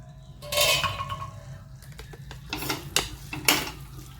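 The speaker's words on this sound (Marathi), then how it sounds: "पहा आपण झाकण काढूया" A lid comes off a pan of cooking capsicum, with a few close metallic clinks and clatters against the rim, separated by short quiet gaps in a kitchen.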